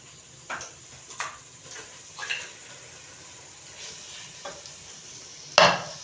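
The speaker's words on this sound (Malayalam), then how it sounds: "ഇനി നമ്മൾ ഈ ചിക്കൻ ഇട്ടതിൻ്റെ ശേഷം ഇതുപോലെ നന്നായിട്ട് ഇളക്കി കൊടുക്കുക" Bone-in chicken pieces stirred in a hot pan of spiced masala, giving repeated soft scraping strokes over a faint, steady sizzle, with a sharper clatter near the end; no one talks.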